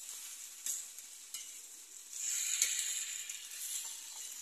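Meat tipped into a hot pan with squash and stuffing ingredients, a faint crackling sizzle that swells after a few light clinks and scrapes, low in level and without talk.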